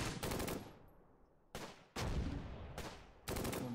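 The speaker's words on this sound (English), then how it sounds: "My track 40 is firing on the Bren section up here on the north." A tracked vehicle's mounted machine gun fires at an enemy Bren section in a war video game, several loud sustained bursts separated by short gaps, fairly close and with no voices.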